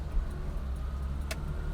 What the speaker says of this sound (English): this engine gets a move on.